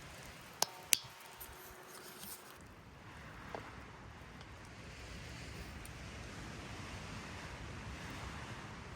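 Wind blows across an open mountain summit in the Adirondacks, a few sharp clicks and handling knocks first, then a steady rushing buffeting that gradually grows stronger.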